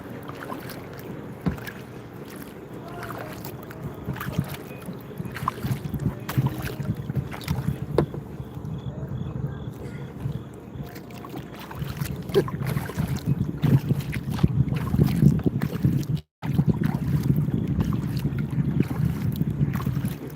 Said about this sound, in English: Get ready for 8 hours of paddling home.